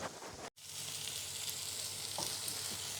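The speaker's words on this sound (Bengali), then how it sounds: "এখন পেঁয়াজটা একটু ভাজা হয়ে গিয়েছে" Onion frying in hot oil, a dense steady sizzle heard close up, broken by one brief silent gap early on and then continuing evenly with faint stirring noises.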